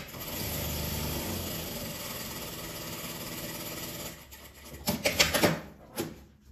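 A sewing machine stitches along one side of a fabric toiletry bag, a steady continuous whir running for about four seconds before stopping, followed by a few louder handling clicks and rustles.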